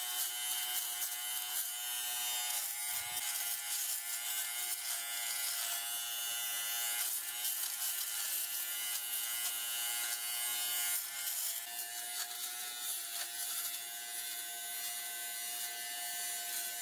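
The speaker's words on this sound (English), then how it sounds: "this is the one I've just done the fabric shaver on" An electric fabric shaver buzzes continuously across the fabric of a Yeezy shoe, a close, steady whine with small shifts in pitch and texture as it is moved over the material.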